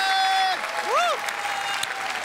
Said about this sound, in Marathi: जोरदार टाळ्या झाला पाहिजे